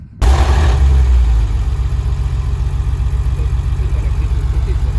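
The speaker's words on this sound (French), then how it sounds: "je vais vous montrer un peu les bruits, puis enfin les sons des moteurs" A Porsche flat-six and V8 engine start up abruptly, then settle into a deep, steady idle with a low rumbling throb that continues evenly throughout, close by.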